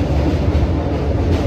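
A train stands at Naihati Junction station, a steady, loud low rumble of carriages and rail machinery filling the short stretch without any talk.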